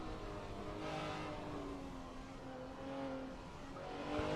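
Onboard a BMW race car during an SRA Group C race, the engine drones steadily loud and close, its pitch shifting as it revs and eases through corners, with no voice over the sound.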